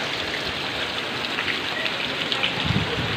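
Steady rain falling outdoors in a mountainous area, a constant dense hiss of drops with occasional closer patters, no voices.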